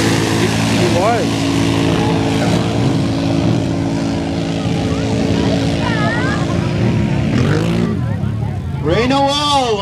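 At a mud bog event, a Can-Am 1000 ATV engine drones loudly and steadily with pitch swells as the throttle rises and falls, while people talk over it.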